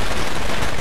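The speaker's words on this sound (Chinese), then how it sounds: "我再放一下这个甩炮啊" A snap firecracker goes off in a zombie video game, a dense crackling burst of sharp pops filling the moment, loud and close with no talk over it.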